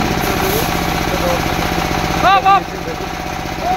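An engine-driven hammer mill crushes corn, its motor giving a steady, loud, rumbling drone throughout, with a couple of brief high chirps partway through.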